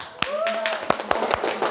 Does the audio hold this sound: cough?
no